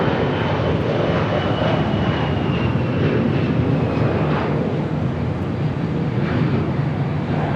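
An Airbus airliner going around on the parallel runway at Los Angeles International Airport, a loud, steady jet engine roar that fills the whole stretch without pause.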